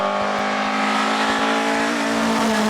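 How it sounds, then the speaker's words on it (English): A Ford Escort RS 2000 brakes hard into a hairpin at a speed hillclimb, its loud engine note dropping and burbling close by with no talk over it. "with the RS 2000 into the braking area for the hairpin now"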